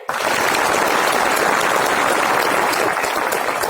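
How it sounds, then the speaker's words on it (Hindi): Loud audience applause, a dense, steady roar of many hands clapping that starts abruptly and holds at full strength throughout, with no talk over it. "हम सभी जितने यहां खड़े हैं वो महात्मा गांधी, स्वामी दयानंद सरस्वती और ऐसे तमाम हिंदी समर्थक, हिंदी के प्रति आग्रही लोगों के लिए जोरदार ताली बजाएंगे।"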